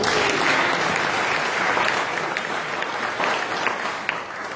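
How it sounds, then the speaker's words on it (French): Congregation applauding in church to acclaim the Lord, a dense, steady wash of clapping filling the room with no voices on top. "Est-ce qu'on va acclamer le Seigneur?"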